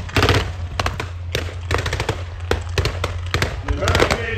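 Rapid bursts of blank gunfire crack out during a Tankfest battle reenactment, loud and close, with a steady low engine drone beneath and a commentator talking over the shots.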